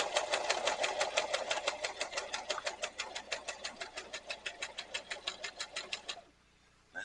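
A sewing machine stitches through canvas pieces for a tote bag, a fast even run of needle strokes lasting about six seconds, close and steady, then stopping abruptly.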